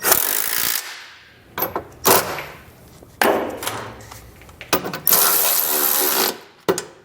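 Ratchet with a 19 mm socket tightening bolts on a hidden trailer hitch under a 2022 Toyota Highlander, in several quick bursts of rapid clicking separated by short pauses, close and fairly loud.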